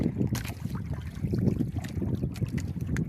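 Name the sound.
rough sea waves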